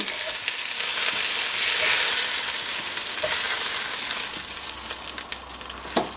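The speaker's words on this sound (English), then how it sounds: "once you brown your rabbit off, just take that out" Wild rabbit browns in a pot, with a continuous dense sizzle and spatter of hot fat close by, plus a few sharp clicks near the end.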